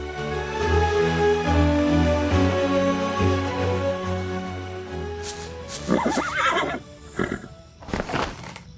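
A horse gives a loud, drawn-out whinny, then hooves clop unevenly nearby along with some shuffling, and no one speaks.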